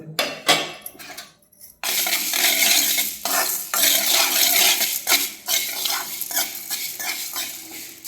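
Mustard seeds, fenugreek and cumin dry-roasting in a pan for chicken pickle, with close, busy scraping and rattling of a spoon stirring the seeds against the metal. A few sharp knocks come first, then steady stirring runs on with no voices.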